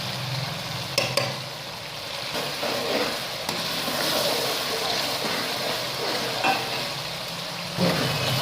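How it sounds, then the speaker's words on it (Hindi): Urad lentils fry with soy sauce in a pan, giving a steady close sizzle with occasional scraping clicks from stirring. "और इसको साथ में थोड़ा सा हिला लेना है ताकि नीचे ना लग जाए।"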